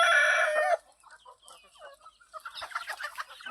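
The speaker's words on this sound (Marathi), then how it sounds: "तर अशा पद्धतीने आपल्या कोंबड्या फ्री रेंज मध्ये खात आहेत।" Free-range desi village chickens on a poultry farm, a rooster crowing loudly up close at the start, then scattered clucks and softer hen chatter with some brief rustling.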